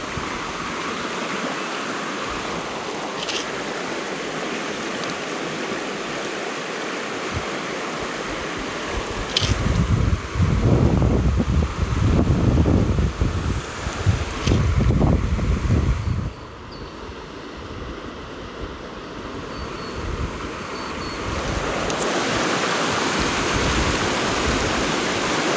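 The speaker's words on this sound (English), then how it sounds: "So we've got some nice couple of riffles here." River water rushes steadily over shallow riffles on a small river, a continuous broadband wash close by that swells louder for several seconds midway, with no talk.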